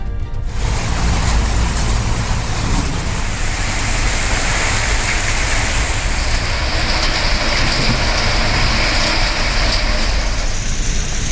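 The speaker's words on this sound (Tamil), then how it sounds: "காஞ்சிபுரம் சுற்றுவட்டார பகுதிகளில் இரவு நேரத்தில் பெய்த மழை." Steady night rain falling around the Kanchipuram area, a dense continuous hiss with low rumble throughout, loud and unbroken.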